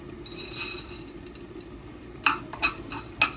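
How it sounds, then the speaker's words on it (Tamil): Fennel seeds and curry leaves fry in a pan with a soft, steady hiss, followed by three sharp metal clinks of a spoon against the pan near the end. No one speaks. "பெருஞ்சீரகமும் கருவேப்பிலையும் போட்டு வறுக்கிறேன் பாருங்க"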